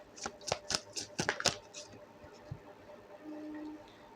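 Tarot cards being gathered up after dropping: a quick series of crisp riffling slaps and flicks in the first second and a half, then softer scattered handling noises.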